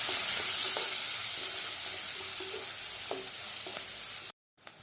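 Onions, green chillies, mustard seeds and cumin sizzle steadily in hot oil in a pan while being stirred, with a few spoon scrapes standing out before the sound cuts off near the end.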